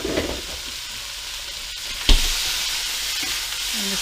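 Pork, onions and barbecue sauce sizzle steadily in a pan, with a brief louder hiss burst midway and occasional stirring scrapes, close and continuous with no talking.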